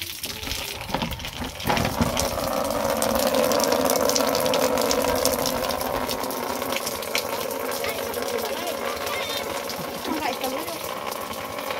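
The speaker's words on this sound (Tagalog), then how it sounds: "Silupin lang ilang atop na ay mga tubig umuulan." Rainwater pours and gushes steadily off a roof, a dense continuous rush with a faint mechanical hum running beneath it.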